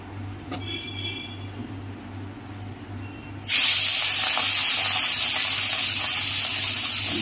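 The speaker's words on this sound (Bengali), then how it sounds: "কড়াইতে আমি তেল দিয়ে দিলাম তেলটা আমার গরম হয়ে গেছে এবার আমি কেটে নুন হলুদ মাখিয়ে রাখা মৌলা মাছটা দিয়ে দেবো" Quiet hum of a kitchen gives way to a sudden loud, sustained hiss as salt-and-turmeric-coated mourala fish drops into hot oil in a kadai, sizzling steadily to the end.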